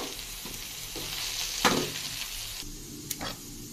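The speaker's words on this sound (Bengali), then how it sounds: "এবার এগুলো ভালো করে লাইড়া চাইড়া আমি 1 থেকে 2 মিনিট করে রাখা" Taro leaves with spices and garam masala sizzle in a hot pan while they are stirred, giving a steady frying hiss broken by a few sharper scraping strokes. No one speaks.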